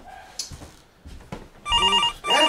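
A house telephone rings at 4 in the morning, with a warbling electronic ring tone coming in two loud bursts after some faint knocks and rustling.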